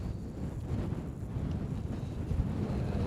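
Low, rumbling wind gusting around 25 mph buffets the microphone continuously at a wet campsite, with uneven gusty surges and no voices.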